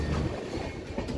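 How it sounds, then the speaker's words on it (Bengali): An 18-coach passenger train, running from Kolkata toward Guwahati, rumbles and rattles steadily as it pulls away in the rain, a close continuous rolling noise with no talk. "চলো এবার ট্রেন ছেড়ে দিল।"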